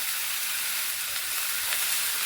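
Tomatoes, garlic and ginger sauté in a pan for mutton kulambu, giving a steady, close sizzle and frying hiss that holds even throughout with no voices.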